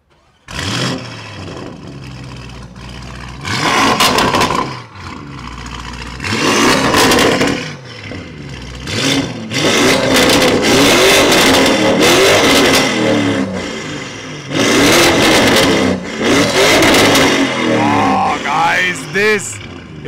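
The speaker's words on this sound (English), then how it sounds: "now it's time to listen to the sound of the Lamborghini Urus by Novitec" Loud Novitec-tuned 2023 Lamborghini Urus heard from outside, with repeated hard revving bursts and roaring engine surges separated by brief drops, building into sustained loud revs later on.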